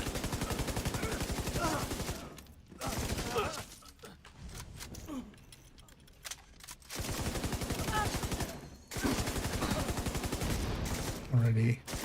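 Light machine gun fire in a video game, sustained bursts of rapid shots broken by short pauses, loud and close, with game effects and brief breaths between the volleys.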